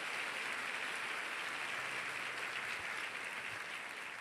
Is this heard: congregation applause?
yes